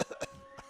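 During a girls' varsity high school soccer match, a few short, quiet coughs come in quick succession, close and isolated against near silence.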